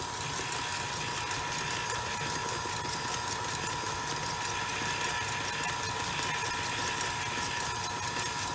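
An electric mixer whipping egg whites for hard meringue while sugar is gradually added, giving a loud, steady motor whir with a constant hum that runs unbroken.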